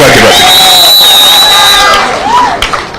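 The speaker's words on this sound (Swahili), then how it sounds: "Makofi kwake basi." A large crowd at an ODM political rally in Kenya cheers loudly with shrill whistles and shouts, a dense, close roar that eases slightly toward the end.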